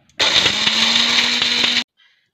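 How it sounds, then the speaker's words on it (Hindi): A kitchen mixer grinder whirs loudly while grinding roasted whole spices for lemon pickle, a single steady burst of under two seconds that starts and stops abruptly. "अब हम इन्हें ठंडा करके पीस लेंगे मिक्सर में"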